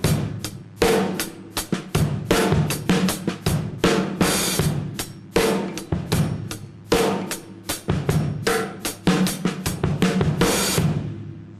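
Drumsticks play a busy syncopated rhythm on a kit, with accents landing on beats 2 and 4 and bright, crashing cymbal hits throughout. The playing is loud and close, with no talk over it.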